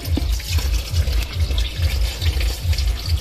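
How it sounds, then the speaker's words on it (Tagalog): Water running while vegetables for pinakbet are washed by hand in a home kitchen, a close, steady pour with rhythmic sloshing and splashing surges repeating about every half second. "Naghuhugas po si mama ng gulay."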